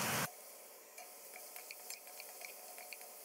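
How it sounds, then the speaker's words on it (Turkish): A steady, quiet sizzle of lamb frying over high heat in a hot pan, with soft scattered ticks and stirring clicks after a brief loud burst at the start. "İlk başta suyunu salmadan böyle bir kuvvetli ateşte kavuracağız."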